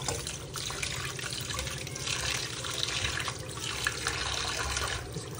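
Water poured from a jug rinses chhena for rasmalai in a kitchen, a steady close splashing and trickling stream that continues without pause, with no talking over it.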